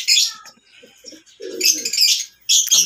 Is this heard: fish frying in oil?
no